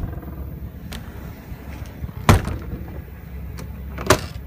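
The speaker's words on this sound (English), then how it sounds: "Close the doors." The doors of a 2003 Ford E-350 Super Duty 15-passenger bus close with a few sharp thuds and latch clicks, two stronger slams standing out over a low idling background.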